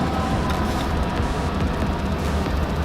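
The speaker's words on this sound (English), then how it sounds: "I think I hear a train coming and it's about to get real loud" A loud, steady low rumble fills the whole stretch, like a nearby train passing, with faint rattling on top.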